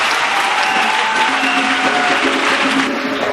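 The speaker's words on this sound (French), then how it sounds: "Acclamons pour Jésus-Christ." Audience at a church gathering bursting into loud, sustained applause to acclaim Jesus Christ, a dense wash of clapping from many hands that stays strong and even before easing slightly at the end.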